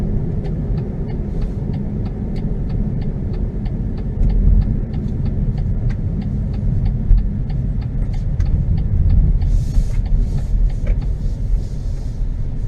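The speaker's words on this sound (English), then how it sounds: "So we are on a pretty rough gravel road right now" A BMW X2 F39 rolls over a rough gravel road, heard from inside as a continuous low rumble of tyres and engine with steady gritty crunching and a faint regular ticking above it.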